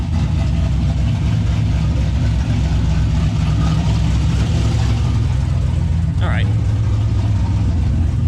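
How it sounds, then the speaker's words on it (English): A turbocharged LS V8 swapped into a 1974 Chevrolet C10 truck idling loudly with a deep, choppy rumble from an open exhaust cutout, steady and close throughout. "it's pretty loud right now because the exhaust cutout's dumping right down there"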